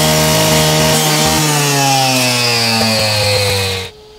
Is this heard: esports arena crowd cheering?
no